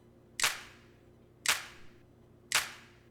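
Three sharp hand-clap samples in a music mix, evenly spaced about a second apart, each a crisp, bright snap with a short reverberant tail over a faint background.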